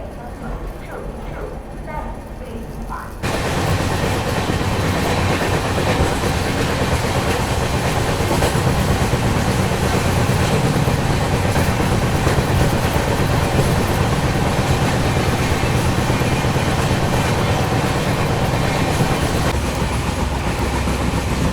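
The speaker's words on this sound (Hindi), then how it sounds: "तो ट्रेन बहुत ज़्यादा ही स्लो डाउन हो गई है दौंड जंक्शन के स्केप में" A Pune–Hyderabad Shatabdi Express slowing near Daund Junction, its steady loud rumble and wheel noise filling the cabin after a quieter opening few seconds, with a voice faintly present.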